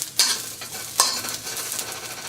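Ginger aromatics hitting hot oil in a wok, with two sharp bursts of sizzle as they go in, then a steady close hiss and stirring scrape, no talking.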